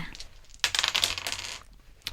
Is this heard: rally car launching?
no